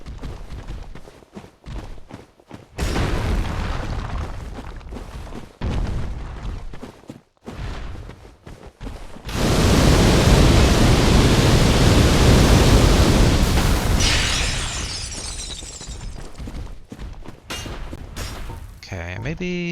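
Fire orb spell blasts in Dark Souls Remastered erupt as a broad roaring whoosh and rumble lasting several seconds, with sporadic hits and scuffles around it and a voice talking between bursts.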